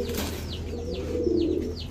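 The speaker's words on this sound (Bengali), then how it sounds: "দেখেন খুব সুন্দর একটা কবুতর" Hungarian High Flyer Budapest pigeons cooing close by, a few soft repeated coos with low murmuring over a steady background hum, no talk.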